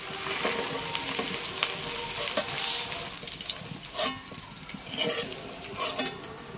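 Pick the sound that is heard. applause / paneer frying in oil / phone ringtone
paneer frying in oil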